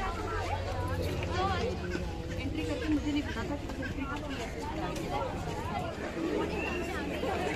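A dense crowd chatters at Agrasen ki Baoli stepwell in Delhi, a steady babble of many voices echoing continuously without pause, with closer talk mixed in.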